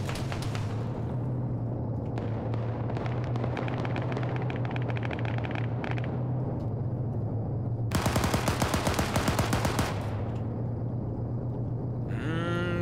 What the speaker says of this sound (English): More explosives going off.